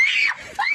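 A prisoner lets out a loud, raw scream, breaks off for a moment, then screams again close up.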